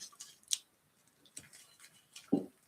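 Scissors cut into a paper mache lamp in a few separate snips, spaced irregularly, close and fairly quiet against a near-silent room.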